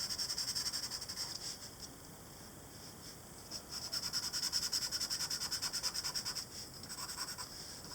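Charcoal is rubbed and blended across paper to smooth and darken areas of a figure drawing. The strokes make a faint, steady, close scratchy rubbing in a rhythmic back-and-forth pattern, with no talk.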